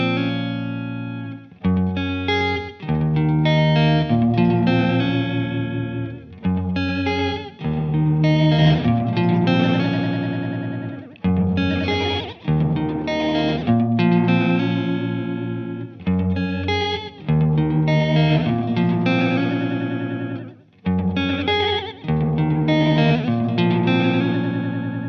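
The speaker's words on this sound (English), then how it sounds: "we can hear the scope of the modulation effect there" Electric guitar played through a Fender Hammertone Delay pedal with modulation, a sequence of sustained chords and melodic phrases with wavering chorus-like shimmer and echoing repeats, loud and close with brief pauses between phrases.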